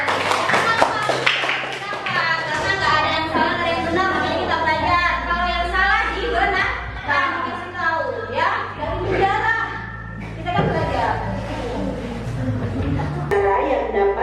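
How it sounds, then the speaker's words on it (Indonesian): Schoolchildren in an Indonesian classroom clap for their classmates. Rhythmic hand claps run under loud, chant-like children's voices and continue for several seconds. "Beri tepuk tangan dulu dong buat teman-teman"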